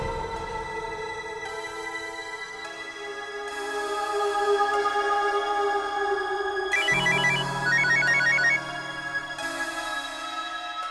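A phone rings with an incoming call from dad, playing a melodic ringtone that loops and changes pattern over about eleven seconds, loud and alone with no talk.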